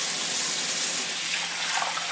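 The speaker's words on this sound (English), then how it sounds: "I turn on the faucet." Water runs steadily from a kitchen faucet into a bowl, a close, even, full rush that continues without a break.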